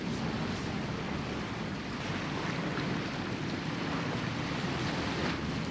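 Waves wash steadily along a beach in a continuous broadband roar, with wind buffeting the microphone and no talking.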